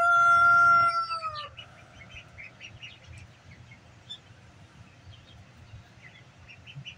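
Chickens crowd a heat lamp in a pen alongside young chicks and ducks. A loud crow rings out and fades at the start, then faint, scattered clucks and peeps continue over a low background hum.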